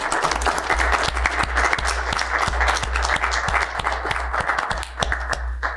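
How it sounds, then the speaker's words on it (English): A round of applause fills a county commission meeting room, steady dense clapping from a seated crowd with a low constant hum beneath, sustained loud throughout without letup. "let's give her a round of applause"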